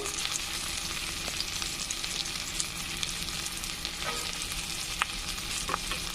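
Spices frying with a hilsa fish head in a pan: a steady, close hiss of sizzling oil with occasional soft stirring scrapes and small pops, no voices.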